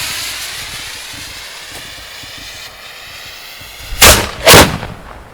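Professional Roman candle fireworks fire two loud, sharp bursts in quick succession outdoors after a quiet stretch of faint background noise.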